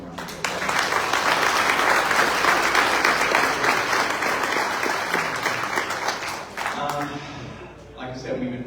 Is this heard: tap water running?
no